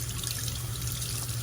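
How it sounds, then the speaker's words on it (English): Tap water running steadily over a Philips FlexSeries shaver head in a sink, a continuous close splashing rush with faint trickling. "Running water there."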